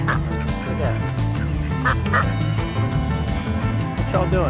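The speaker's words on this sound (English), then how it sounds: "Some little green head ducks come to visit me." Several green-headed mallard ducks quack close by in repeated raspy calls that continue throughout, mixed with someone talking over them.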